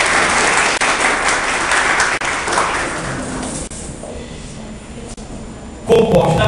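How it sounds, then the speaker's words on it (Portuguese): Audience applause at a book launch presentation on contemporary labour law, a dense, steady burst of clapping filling a hall, fading near the end before a sudden louder knock or movement close by. "Uma salva de palmas"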